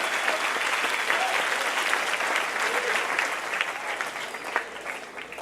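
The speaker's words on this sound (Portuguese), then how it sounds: "pode aplaudir a Jesus, aplauda a Jesus" Church congregation applauds during a sermon: a full, steady roar of many hands clapping together at moderate loudness, sustained throughout with a faint murmur of voices underneath.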